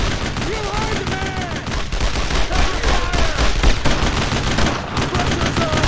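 Heavy World War II gunfire in Brothers in Arms: Road to Hill 30, rapid rifle and machine-gun bursts crackling loudly and continuously, with shouted voices mixed in.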